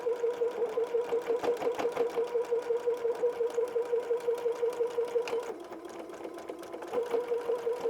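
Sewing machine running steady rapid stitches along a quarter-inch seam with backstitching, a close, even mechanical chatter that pauses briefly near the end before resuming.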